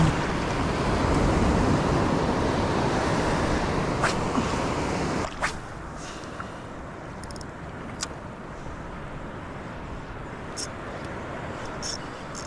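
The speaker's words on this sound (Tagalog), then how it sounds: "Aroy, lalaki ng alon." Loud, broad roar of big ocean waves and wind for the first few seconds during shore fishing, then a quieter continuous wash of water with faint scattered knocks.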